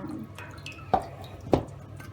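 Lime water strained off soaked pumpkin pieces for Turkish crispy pumpkin dessert, heard as two distinct wet drips or splashes against quiet kitchen background.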